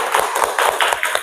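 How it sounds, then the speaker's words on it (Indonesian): Classroom applause for a student, a short burst of hand claps from a group of children, fairly close and steady over about a second without talk. "Kita kasih tepuk tangan untuk Hana"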